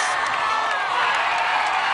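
Loud crowd cheering and whooping at an American Ninja Warrior obstacle course run, a continuous roar of voices with an announcer talking over it.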